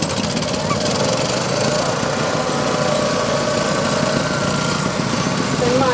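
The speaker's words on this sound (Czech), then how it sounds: "Osmý ročník závodu traktorů a zemědělské techniky nabídl přehlídku pestrých strojů" Tractors and farm machinery rumble together in a race, a dense, steady engine roar with rattling, honk-like tones throughout, loud and close.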